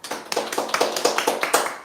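Quick, evenly spaced clapping from a small group welcoming a newly hired content manager at the start of a live broadcast, steady and close, with no talking over it.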